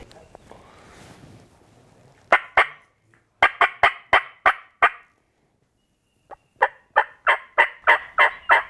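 A wild turkey gobbles repeatedly, loud and near, in two bursts of rapid, rattling calls separated by a quiet pause, with low murmuring voices at the start.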